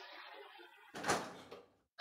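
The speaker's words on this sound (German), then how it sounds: "Ist ja immer schön, wenn man eine Tür öffnet," A door opens in Resident Evil 2 with a short creak and heavy thud, followed by a dull lingering rumble and a sharp click at the end, all fairly quiet.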